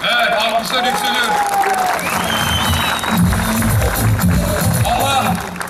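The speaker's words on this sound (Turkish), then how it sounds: "Evet, alkışlar yükseliyor." Crowd at an outdoor political rally in Iskenderun applauding and cheering, a loud wash of clapping and shouts beneath a voice speaking over it, with whistles and a low rumbling swell of noise.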